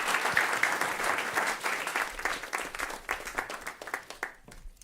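An audience applauds for Dana Gunders after her climate talk on food waste, steady dense clapping filling the room at moderate loudness before thinning out toward the end.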